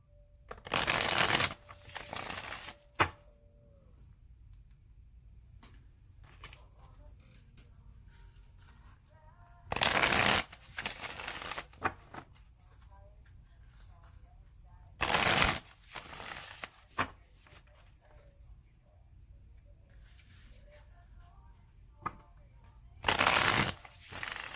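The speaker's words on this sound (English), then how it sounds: "I'm going to shuffle it 3 more times" A deck of tarot cards is shuffled in four separate quick riffling bursts, close and crisp, with quiet pauses between each bout.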